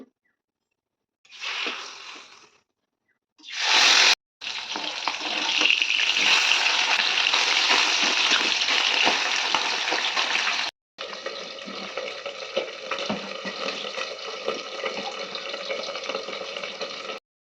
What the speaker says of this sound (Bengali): মাছ ভাজা এই যে বাটা মাছ করার মধ্যে দিয়ে দিয়েছি তেল